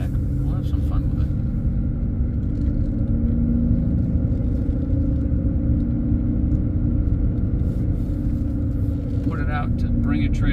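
A 2016 Aston Martin DB9 GT in Skyfall Silver drives along with a steady, loud engine and road rumble throughout, a continuous low drone with people talking over it.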